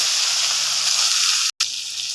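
A ground paste of cumin, coriander, chili, ginger, onion and garlic sizzles loudly in a hot pan, a steady close hiss broken by a brief cut before the frying carries on.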